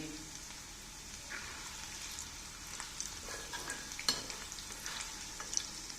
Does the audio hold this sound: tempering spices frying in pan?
yes